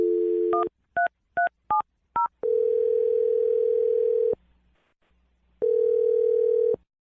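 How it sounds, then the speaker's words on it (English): A landline phone being dialed during a radio call: a dial tone, a quick run of separate touch-tone beeps, then two long steady ringback tones with a pause between them. "I'm dialing the phone number now."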